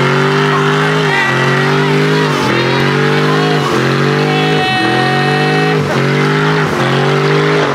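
A twin-turbo AMG engine revs hard in an illegal street race, loud and close, its pitch climbing and dropping again through repeated bursts of acceleration with a faint squeal of tires.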